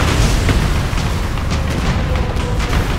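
A missile blast striking a building in the jet combat game Ace Combat Assault Horizon: a dense, continuous rumbling boom with crackling debris filling the whole stretch at steady high loudness, no speech.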